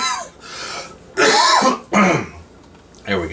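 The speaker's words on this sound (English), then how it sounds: "I'm not sure if that was a mixture of me having to cough or whether this hot liquid made me cough." A person coughs and clears their throat after sipping hot homemade cranberry juice, a few loud close bursts with quiet pauses between them.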